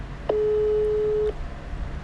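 Telephone call tone heard after redialing, a single steady beep lasting about a second, clear and close over a faint background hiss.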